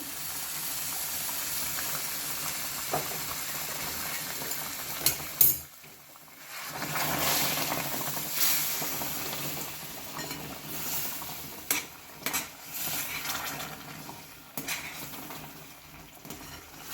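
Milk poured into hot cooking moong dal halwa, a steady sizzling and bubbling hiss with scraping pan clatter, a sharp burst then brief quiet before the sizzle resumes, close and moderately loud.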